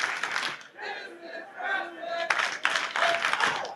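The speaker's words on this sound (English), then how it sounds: "You can hear the crowd." Wrestling crowd at a women's championship match cheering and clapping in bursts, with shouts rising and falling while a commentator talks over it.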